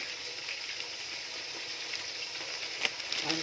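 Seasoned fish fries in hot oil with a steady, close crackling sizzle. The hiss stays even throughout, with a few sharper pops near the end.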